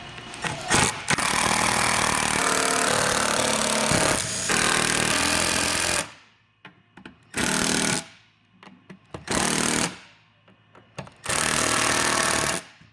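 A power driver with a T25 Torx bit runs the bolts out of the stock intake reed on a Patriot Boost airbox during a BoonDocker intercooler install. It comes as loud, rattling bursts: one long run, then several short spurts with quiet gaps between them.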